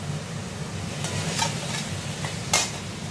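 Potatoes frying in spiced masala for a Bengali chitol fish curry (kalia), a faint steady sizzle with a few sharp clinks and scrapes of a stirring utensil against the pan.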